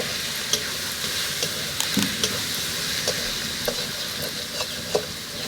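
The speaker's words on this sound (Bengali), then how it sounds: "এইবার দিয়ে দেবো রসুন বাটা।" Garlic paste hitting hot oil in a frying pan for a village-style duck curry, a continuous crackling sizzle with sharp pops and occasional stirring scrapes.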